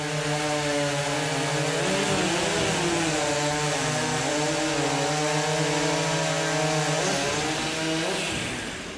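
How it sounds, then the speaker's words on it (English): A modified hot saw chainsaw screams at full throttle as it cuts through timber in a sports competition. The loud, continuous engine whine dips in pitch as the blade bites into the wood, then falls off at the end. "Penker with a nice time of 11:40 takes over the top spot in hot saw"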